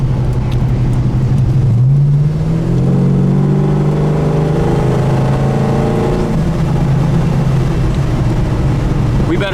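A 1970 Dodge Charger engine revs up as its automatic transmission kicks down, the loud, close exhaust note climbing steadily in pitch and holding strong, with someone talking briefly over it.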